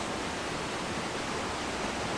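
Small waterfall at Golitha Falls in Cornwall, water pouring over logs in a steady, dense rushing roar that stays constant and fairly close with no other sounds.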